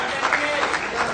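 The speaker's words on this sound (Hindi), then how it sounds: "तालियां होती रहे आपकी ओर से" Audience at a Jharkhand government anniversary event applauding in a steady, fairly soft burst of clapping that runs throughout.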